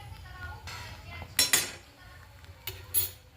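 A metal spoon clinks against a pan while cardamom powder goes into carrot halwa, two short bursts of bright tapping and scraping close by over a low background hum.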